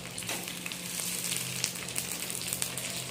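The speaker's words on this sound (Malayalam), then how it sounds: "ഇതിങ്ങനെ നന്നായിട്ട് വറുത്തെടുക്കുക നമ്മൾ" Kondattam sizzling as it fries in hot sunflower oil, a steady crackling hiss with scattered sharp pops close by, no voices.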